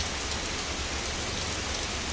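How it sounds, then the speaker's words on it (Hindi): Heavy rain pours down steadily in windy weather, a dense, continuous hiss of drops striking surfaces nearby, with no pauses or voices. "आज बारिश भी आ रही है"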